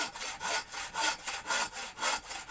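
A hand saw cuts through firewood in steady rhythmic strokes, about two per second, with each rasping push and pull close and clear and no talking.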